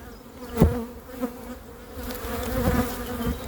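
Honeybees buzzing around an open beehive during an inspection of the honey supers, a dense continuous drone with individual bees passing close by now and then.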